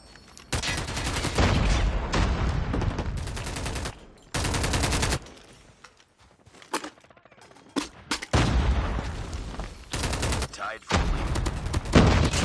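Light machine gun fire in a multiplayer shooter match, long loud sustained bursts of rapid automatic shots separated by brief pauses, close and dominant, with short shorter volleys later.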